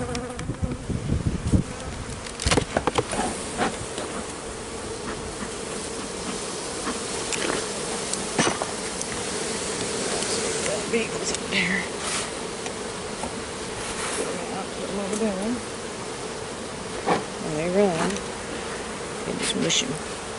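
Honeybees buzz around an open apiary hive, a dense continuous drone with individual bees passing close by now and then, steady and loud with no talking.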